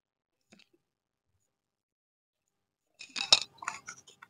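A spoon clinks and scrapes against a pan while tomato and soy sauce are stirred for chili chicken, a short cluster of close metallic taps after a long near-silent pause.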